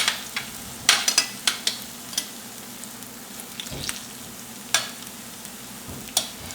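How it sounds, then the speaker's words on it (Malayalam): Nendran banana pieces shallow-fry in ghee, a low continuous sizzle broken by repeated light taps and scrapes of a spatula against the pan, close up and without speech. "ഞാനിതിപ്പോൾ ഡീപ്പ് ഫ്രൈ ചെയ്യണില്ല, നെയ്യിൽ ജസ്റ്റ് 2 സൈഡും മൊരിച്ചെടുക്കണം കേട്ടോ ചെയ്യണത്."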